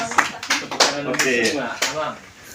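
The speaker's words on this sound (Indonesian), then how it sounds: "Tepuk tangan untuk Lola." Children clap for a classmate named Lola in an English class, a quick burst of scattered claps close by, mixed with voices talking.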